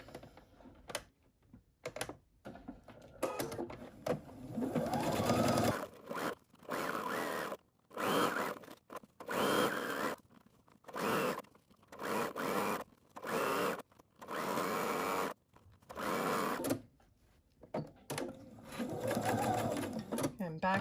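Sewing machine stitching the seam of a baby sun hat in a series of short, rhythmic bursts separated by brief stops, with a person talking over much of it.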